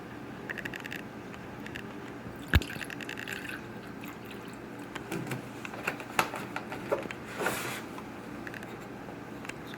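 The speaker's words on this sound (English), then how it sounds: "the last thing we're going to add is the appropriate soap per the recipe." Soap poured into the barrel liner of an AutoFinish finishing machine gives a faint liquid trickle and splash amid scattered small clicks and knocks, with one sharp tap early on.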